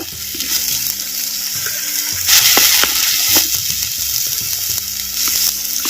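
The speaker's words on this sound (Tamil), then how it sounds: "சேர்த்த சின்ன வெங்காயம் விழுதுகளை அப்படியே எண்ணெயில் வதக்கு வதக்குன்னு வதக்குறான்" Small shallot paste sautéing in hot oil while making fried sardine fish kulambu, a steady close sizzle with scattered pops and stirring clicks throughout, growing a little louder midway.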